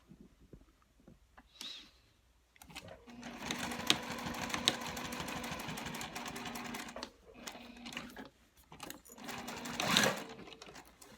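A sewing machine stitches a key fob wallet panel, back-stitching over the card slots in a close, steady mechanical buzz broken by brief pauses.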